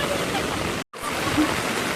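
Heavy rain pours steadily in Ratnagiri, a dense, loud broadband wash that drops out for a split second before resuming just as strongly.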